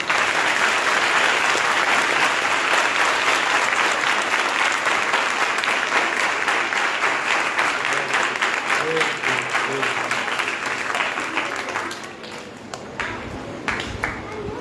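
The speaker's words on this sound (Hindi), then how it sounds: "अच्छा लग रहा है तो अंकल लोगों के लिए ताली बजा कर" A group of children claps in sustained applause at a church vacation Bible school session, dense and loud for about twelve seconds before thinning out to scattered claps.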